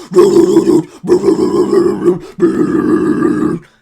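A voice imitates deep, guttural growled vocals in three long, harsh bursts separated by short breaths, loud and close.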